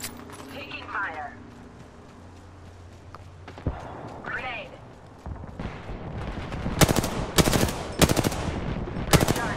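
Gunfire in Apex Legends ranked arena combat, rapid automatic bursts that grow louder and denser toward the end, with character voice lines and footsteps earlier on.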